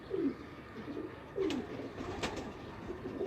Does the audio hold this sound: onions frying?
no